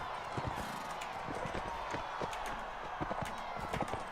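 Horse hooves gallop across the ground in Mount & Blade: Warband, a fast, rhythmic clatter of repeated hoofbeats at moderate volume over a steady background bed.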